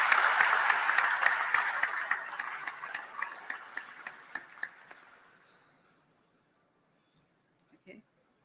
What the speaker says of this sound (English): A round of applause for Miss Betty Muhao.